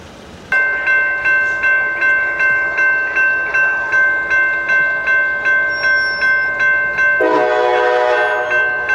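A freight train near the Evansville, Indiana yard blasts a loud sustained multi-tone horn while rolling past, its wheels clicking in a steady rhythm over the rails.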